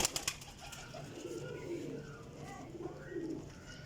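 Teddy breed pigeons coo in a soft, repeated, low throaty rhythm, steady and fairly close, with faint background noise and a brief human voice at the start.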